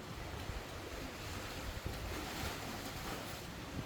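Ocean surf rolling in over a shallow shelf in front of a beachfront resort in Palompon, Leyte, a steady wash of waves mixed with wind noise, continuous and fairly close, with no talking.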